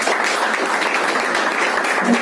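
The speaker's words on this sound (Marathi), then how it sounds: "आपण जोरदार टाळ्या वाजवून स्वागत करूया" A hall audience claps steadily and densely throughout, a sustained wash of applause welcoming a guest at a literary event.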